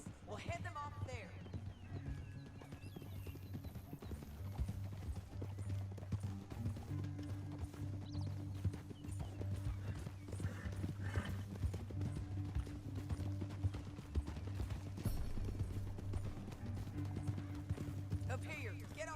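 Horse hooves clip-clop steadily in the Red Dead Redemption 2 video game, a continuous quiet rhythm of hoofbeats under a soft musical bed with no clear talk.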